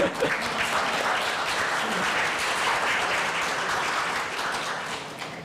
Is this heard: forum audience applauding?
yes